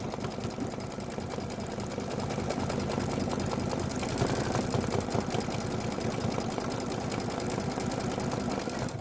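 An embroidery machine stitching a witch hat buckle detail in bright yellow thread on a pillow, its needle chattering in a fast, steady mechanical rhythm, loud and close with no pauses.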